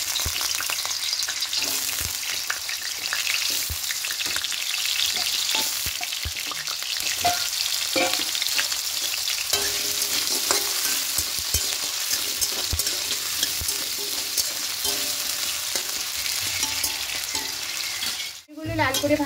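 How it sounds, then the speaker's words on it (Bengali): Potatoes fry in white oil in a wok, giving a steady, close sizzle with faint scraping stirs throughout and a short break near the end. "সাদা তেল দিয়ে প্রথমে আলুগুলোকে একটু হালকা করে ভেজে নেব।"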